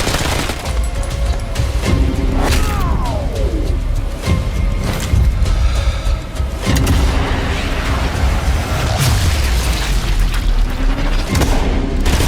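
Cannons boom repeatedly in a video game battle scene, heavy blasts layered over a dense roar, with high whistling and bird-like cooing sounds mixed in throughout.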